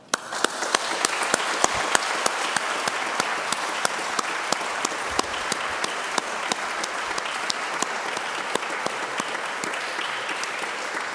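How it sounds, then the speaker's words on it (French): Steady applause from a conference audience runs throughout, dense and even, with a few sharper individual claps standing out in a regular pattern. "Et je vous propose donc de les applaudir."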